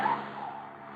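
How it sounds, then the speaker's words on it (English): A car sliding through a corner on the handbrake gives a short, loud tyre skid that starts sharp and trails off into a sustained rough scrubbing hiss. "Hang on, corner on the handbrake makes things kind of sudden"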